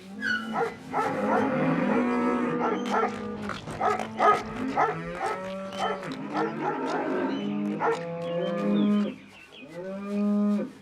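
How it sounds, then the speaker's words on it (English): Several cows moo repeatedly, long low calls close by, some overlapping, with a dog-like bark mixed in, in a children's cartoon. "do you think we might let these cows in now?"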